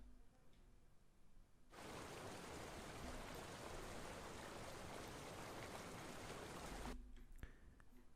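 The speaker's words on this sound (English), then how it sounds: "Load up the large waterfall." A large waterfall sound effect starts abruptly, a dense, steady roar of rushing water held at even loudness for about five seconds before cutting off sharply, with quiet room tone on either side.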